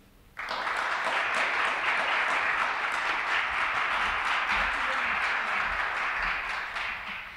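Audience applause welcoming keynote speaker Antonia Maioni, a dense, sustained crowd clapping that starts abruptly and continues evenly for several seconds before tapering slightly.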